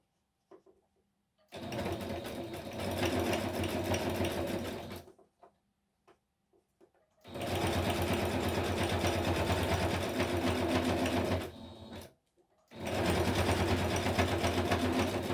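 A sewing machine stitching paper craft material runs in three bursts of steady, fast mechanical whirring and clatter, separated by short quiet pauses with a few light clicks.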